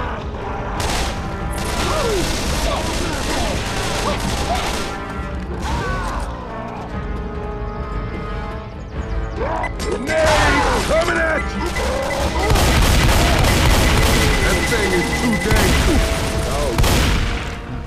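Busy gunfire from Left 4 Dead 2 on a city street, with repeated shots and crashes in a dense, loud, almost continuous mix alongside game voices and other action sounds.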